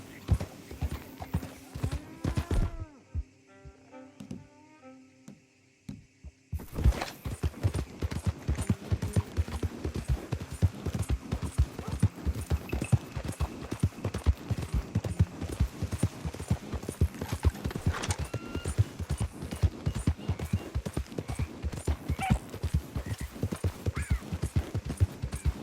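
Galloping horse hooves in a bear-hunting video game, a fast continuous clip-clop rhythm that runs loud and steady through most of the stretch, pausing briefly near the start before resuming.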